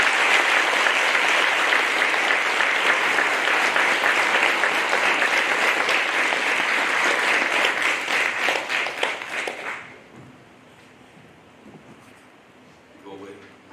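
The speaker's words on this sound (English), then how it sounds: "Let's give them a round of applause one last time." An audience at a high school JROTC Medal of Heroism presentation claps loudly in sustained, dense applause that tapers off abruptly, leaving a quiet room with a few scattered claps.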